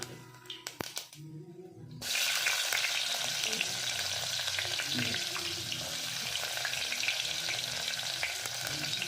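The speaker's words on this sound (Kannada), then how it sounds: "ಉಳ್ಳಾಗಡ್ಡಿ ಚಲೋ ತಂಗೆ ಸ್ವಲ್ಪ ಫ್ರೈ ಆಗಬೇಕು ಉಳ್ಳಾಗಡ್ಡಿ ಹುರಿಯತ್ತವು" Chopped onions sizzle loudly in a pan with cumin seeds, a dense steady frying hiss starting after a couple of seconds of quieter clinks, with occasional stirring scrapes and no talk.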